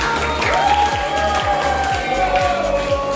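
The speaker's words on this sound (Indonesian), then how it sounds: "Tepuk tangan untuk juara kita." Audience applause for contest winners at a teacher-training performance exam on the Islamic funeral prayer at UIN Salatiga: steady clapping through the whole stretch, with a tonal, music-like layer and some low rhythmic thumps underneath.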